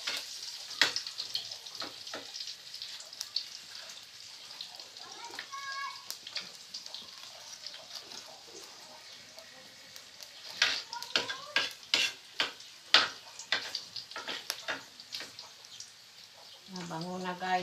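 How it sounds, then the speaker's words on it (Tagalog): Garlic fries in a pan for a home-cooked fish dish, a faint sizzle under frequent scraping and clinking of a utensil stirring against the pan. Some clatters come louder and closer, and a voice is heard briefly. "Pula-pulahon ko pa ang ahos ko guys para magmabango."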